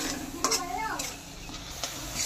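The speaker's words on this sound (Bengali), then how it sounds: "ভালো করে নারকেল আর চিনি দিয়ে একটা পুর তৈরি করে নেব" Coconut and sugar filling for modak stirred in a pan, with a few quick scraping strokes and a light sizzle heard close by over a brief, soft background.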